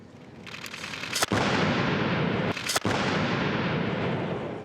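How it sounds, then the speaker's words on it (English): A handheld Ozutsu cannon, its barrel braced by the left arm, fires twice during a Japanese classical martial arts demonstration: two sharp, loud blasts about a second and a half apart, each followed by sustained rumbling roar and noise. "A kind of handheld cannon."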